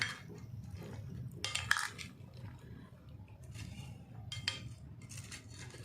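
Chopped vegetables and green coriander are tossed in a bowl for a salad, with soft clinks and scrapes of a spoon against the dish recurring in light bursts, fairly quiet and without talking.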